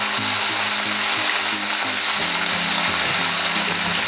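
Pumpkin pieces frying in hot oil in a pan, a continuous close sizzle with light scraping and clinking underneath, no talk.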